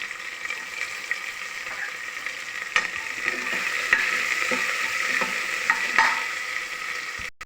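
Onions, curry leaves and mustard seeds frying in hot oil during a South Indian tempering, with a steady close sizzle, occasional crackles and pops, and a few brief clinks of a stirring spoon against the pan.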